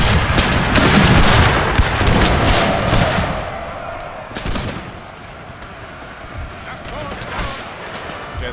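Musket volleys crackle across a Thirty Years' War battlefield in a Total War game, a dense loud burst of overlapping shots at first that thins to scattered distant pops and booms.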